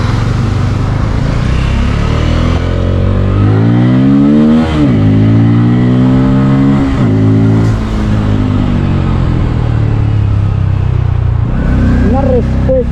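A Bajaj Pulsar N250 motorcycle engine revs hard, pitch climbing and dropping through several gear changes, loud and close, with a final sharp rev at the end.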